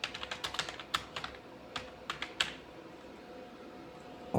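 Quick clattering keystrokes on a computer keyboard in a short irregular burst, close and clear, then a pause before one final key press.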